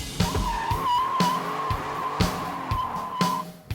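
Chevy S10 pickup with a swapped-in LT1 engine laying rubber in a burnout: a sustained, steady tire squeal over engine roar, broken by repeated sharp pops and thumps, loud and close with no talking.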